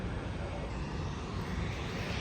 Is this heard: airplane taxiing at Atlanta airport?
yes